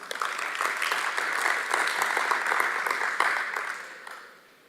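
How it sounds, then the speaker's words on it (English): An audience claps in a sustained burst of applause that holds steady, then fades out over the final second. "a round of applause for our Stratcom members"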